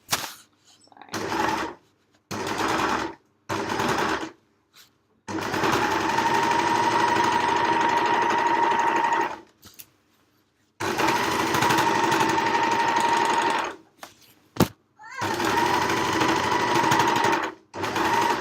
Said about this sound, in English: Hear the overlocker work as it goes over the handles